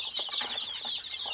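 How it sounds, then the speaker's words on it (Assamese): Sick chickens recovering from illness make a brief burst of busy, close clucking and chattering, steady and dense throughout. "মোৰ মুৰ্গী বিলাক অলমোস্ট ৰিকভাৰ হৈ গৈছে"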